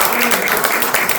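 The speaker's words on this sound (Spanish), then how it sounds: "yo quiero que le demos un aplauso a nuestros tres invitados de hoy" Audience applause for three guests at a rock music panel talk, a steady broadband clatter of clapping hands sustained throughout with a voice faintly underneath.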